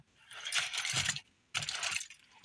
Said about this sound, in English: Put the key in,